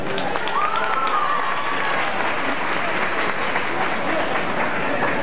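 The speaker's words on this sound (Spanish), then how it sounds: "Un fuerte aplauso para ellas." Sustained audience applause at a preballet dance show, steady and dense from start to finish with no voices over it.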